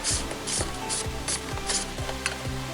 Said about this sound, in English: now we can go ahead and install it on the oil filter housing, and just screw it all the way